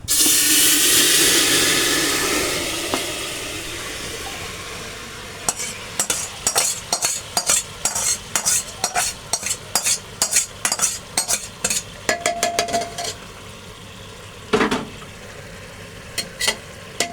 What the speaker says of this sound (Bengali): কষানো মাংসটা পুরো প্রেসার কুকারে ঢেলে দিলাম।